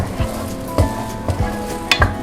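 Chilli paste for a Thai curry fries in a pan, a loud, steady sizzle broken by repeated scraping clatters from a utensil stirring against the metal, with no talk.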